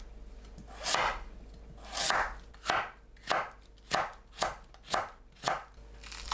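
Knife julienning radish on a cutting board, with eight crisp chopping strokes, close and distinct, settling into an even rhythm after two slower opening cuts.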